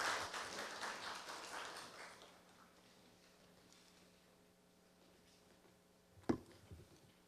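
A quiet audience at a campus town fair claps briefly, with soft, thin applause lasting about two seconds that fades into room hum, and a single loud tap near the end.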